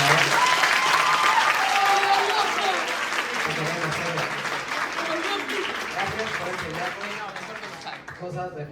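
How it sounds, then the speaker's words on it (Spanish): An audience at a secondary-school graduation ceremony gives teacher Celia sustained, dense applause that fills the room and fades slowly, with voices mixed in. "un aplauso para ella, por favor."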